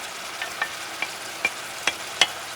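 Grated tomato sauce sizzles and hisses in a hot pan for pasta picadillo, a steady frying crackle broken by several sharp pops or stirring clicks at regular intervals.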